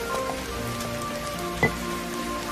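Rain falls steadily in an outdoor scene, a constant soft hiss of drops with one brief louder tap partway through and no talking.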